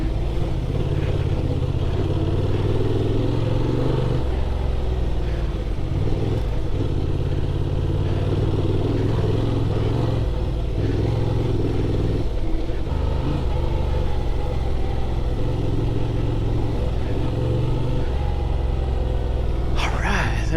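Honda Transalp XL 750 motorcycle, a 2024 model, crawling off-road through desert terrain, its engine giving a steady low rumble with small revs and clatter throughout, close and loud, without letup.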